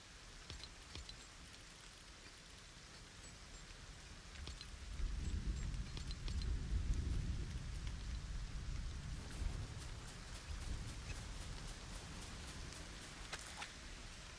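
Rain falls in the video game Lego Fortnite, a soft steady hiss of drops with scattered sharper taps, swelling midway into a heavier low rumble of downpour before easing back to a lighter patter.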